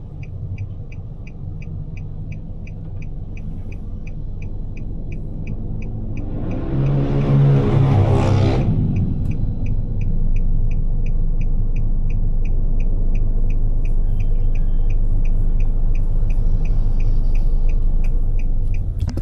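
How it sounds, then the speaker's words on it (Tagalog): Road traffic in Mindanao hums as a constant low rumble, with one vehicle sweeping close past in a loud whoosh midway before the steady drone resumes. "Traffic."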